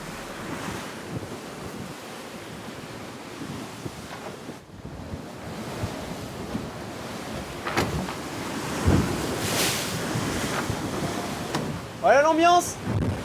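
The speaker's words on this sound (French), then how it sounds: "On a retrouvé du vent ce matin." Wind buffets the microphone while sea waves wash and slap around a moving racing sailboat, with a few brief creaks and a short voice-like sound near the end.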